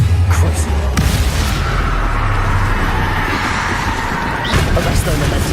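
Spell explosions from Hogwarts Legacy combat, Bombarda and Confringo blasts going off in quick succession, loud booming impacts layered over dense battle noise and a low rumbling bed throughout.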